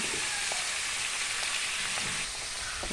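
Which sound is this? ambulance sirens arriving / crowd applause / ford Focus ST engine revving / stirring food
stirring food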